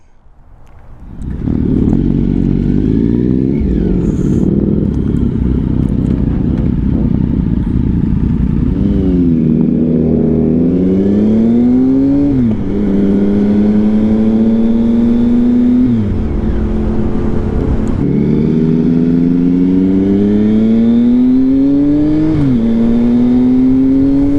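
A car drives along a street for a short, easy ride, its engine note rising and falling steadily through gear changes and sustained loud throughout with no talking.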